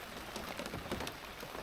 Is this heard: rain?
yes